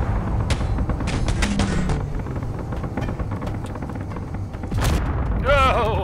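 Booming blast from a direct hit by frontal launchers on a corvette in Space Engineers, a heavy low rumble with sharp crackling impacts and a rising whine near the end, loud and close.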